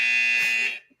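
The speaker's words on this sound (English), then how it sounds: "If they lose themselves for more than 30 seconds, the buzzer sounds, which I've just got here." A podcast buzzer blares in one loud continuous electronic tone for about three quarters of a second, then cuts off into silence.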